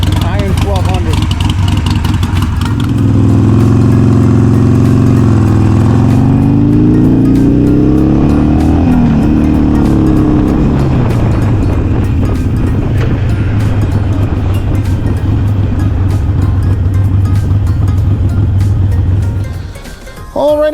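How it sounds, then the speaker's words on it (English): A Harley-Davidson Iron 1200 motorcycle being ridden: a loud, steady, deep engine drone that rises and falls as the rider accelerates and shifts, heard close and continuous with wind noise, then cuts off abruptly near the end. "I have a smaller bike. It's a Harley Davidson Iron 1200."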